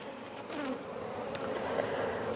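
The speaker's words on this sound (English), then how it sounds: "Because my thing slipped and I upset the bees." A dense, agitated buzzing of many disturbed honeybees at an opened hive, close and continuous, with individual insects whining past in shifting pitches.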